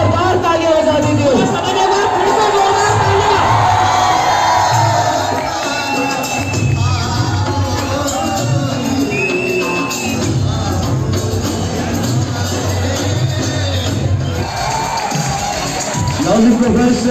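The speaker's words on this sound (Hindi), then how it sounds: "सबसे एक बार रिक्वेस्ट करूंगा कि जोरदार तालियां बजा दीजिए।" A large crowd in a Lovely Professional University hall cheers and shouts loudly and steadily, with a dense roar of voices and whoops holding for the whole stretch.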